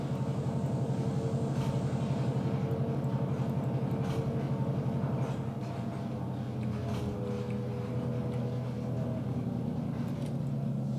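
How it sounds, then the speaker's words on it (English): Model railroad locomotives labouring up a grade on the Wallace Branch layout, a steady, droning motor rumble with a faint clicking rhythm that holds evenly throughout, fairly quiet and with no talk. "even just the locomotives going up this grade, struggle, right?"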